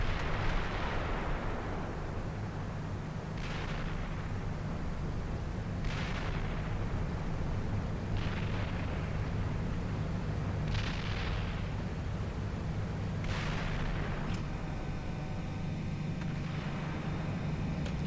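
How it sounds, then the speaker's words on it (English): An artillery fire mission in the tank simulator Steel Beasts lands as a series of six or so heavy explosions spaced a few seconds apart, each a booming blast over a continuous low engine rumble. "Indirect fire mission over those dismounts, successful, enemy destroyed, over."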